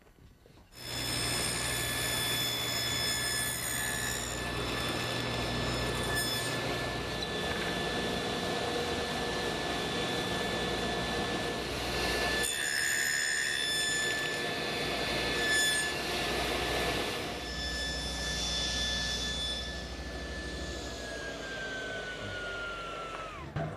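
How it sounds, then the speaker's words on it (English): A table saw cuts the shoulders around a tenon for a small one-drawer table, a steady loud motor whir with a faint whine that runs unbroken for over twenty seconds before winding down near the end. "we changed our setup on the table saw to go ahead and cut our shoulders all the way around the tenon"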